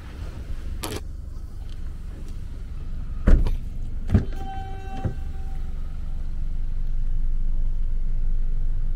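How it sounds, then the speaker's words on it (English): Car doors of a 2019 Hyundai Accent are opened one after another, giving a few sharp latch clicks and thuds with a brief electronic chime, close by against a low steady background rumble. "Let's open these doors up."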